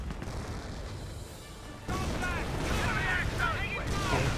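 A Hotchkiss artillery barrage in the video game Company of Heroes: a rumbling din that suddenly gets louder, with several whistling shells streaking in amid heavy, continuous impacts.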